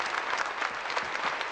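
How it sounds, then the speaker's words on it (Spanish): A church congregation applauding during a service, with dense, lively clapping from many hands that fills the room steadily and fairly loudly. "Fuerte el aplauso, mi hermano."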